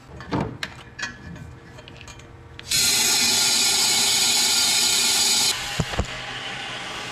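Loud, steady rushing hiss of blow-by air venting from a melted, fully forged KL engine, lasting about three seconds before cutting off, with mechanical clanks and knocks around it.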